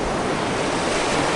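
Ocean waves break and wash steadily on a Florida beach, a continuous loud surf roar with wind noise and no pauses.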